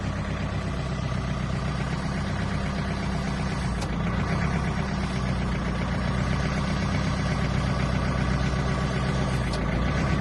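A Mitsubishi MT30 Japanese mini tractor engine runs steadily with its tiller turning, a loud, close, continuous mechanical drone with a dense rattling texture and no voices.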